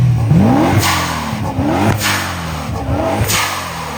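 A twin-turbo BMW E92 M3 engine revs hard in repeated rising and falling bursts with sharp anti-lag pops and whooshes, loud and close, with no talking.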